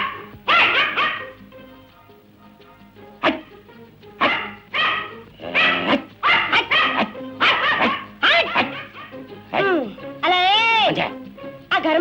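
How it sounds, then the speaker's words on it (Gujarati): Village dogs bark in a rapid series of sharp, loud bow-wows and yips, some with whining tones, bursting repeatedly over about twelve seconds with short gaps between. "ગામના કૂતરાઓને પોતાને કપડા પહેરવા નથી ને મેં પહેર્યા છે તો મને જોઈને ભસે છે."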